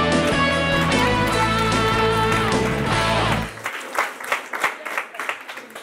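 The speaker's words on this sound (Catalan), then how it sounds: "un aplaudiment pels nostres 6 concursants" A studio audience at a Catalan school quiz show applauds the six contestants under a swell of music that cuts off midway, leaving scattered, fading claps with some voices.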